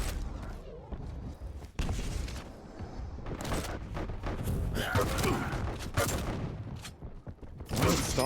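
Rocket launcher fire and explosions in a competitive team-series video game match, with repeated sharp blasts, booms and mechanical clatter in rapid bursts, heard under ongoing commentary.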